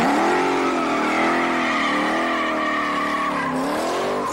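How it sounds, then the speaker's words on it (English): Street machine engines roar and tyres squeal at the Summernats car festival, a loud sustained wail of screeching rubber with wavering pitch over heavy engine noise, continuous and close. "the sound of erupting engines, squealing tyres and burning rubber."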